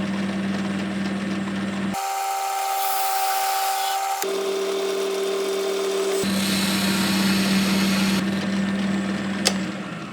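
Drill press boring into wood with a 3/4 inch Forstner bit, a loud steady motor whine that shifts pitch in distinct stages as the bit cuts, with no talking.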